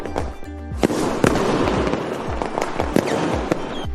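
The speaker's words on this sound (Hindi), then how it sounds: "पटाखों को जलाकर दिवाली मनाई" Diwali firecrackers bang repeatedly in quick irregular succession, sharp cracks and pops layered over a crackling background.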